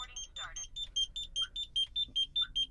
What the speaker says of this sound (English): Alarm starts going off.